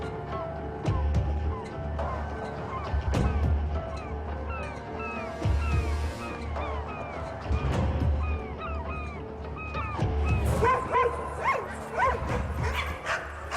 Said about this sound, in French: Cela fait maintenant 2 semaines que les chiens sont enfermés dans le hangar.